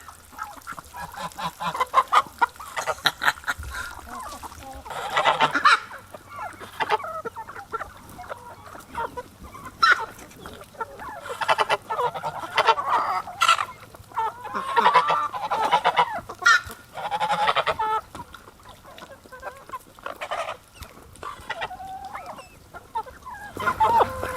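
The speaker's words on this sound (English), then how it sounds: "this is what a bunch of hungry chickens look like" Hungry chickens cluck and squawk busily in a dense, close flock in a chicken coop, with goose-like honks mixed in, continuous and fairly loud throughout.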